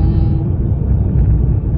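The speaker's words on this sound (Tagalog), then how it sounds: "Maingay daw yung motor niya." A noisy car engine rumbles loudly and close by in a steady, low drone for a brief moment, with no talking.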